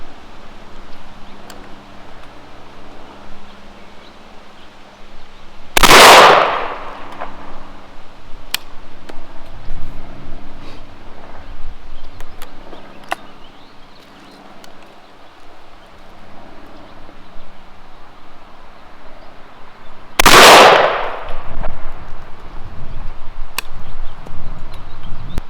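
An H&R Ultra Slug Hunter compact 20 gauge rifled-barrel rifle fires two loud, sharp shots of number 6 shot shells about fourteen seconds apart, set against quieter outdoor background noise.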